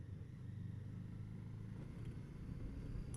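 A Honda CB500 motorcycle ridden through a village in second gear, its engine a steady, low rumbling drone with slight revvy rise, heard from the rider's position with wind under it and no talk.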